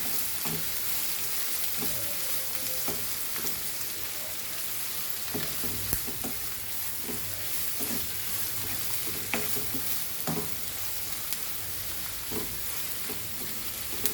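Potatoes for Goan patal bhaji sizzle in a pan, a steady dense crackle of frying oil with occasional soft scrapes and stirring knocks, close and continuous throughout, no voices.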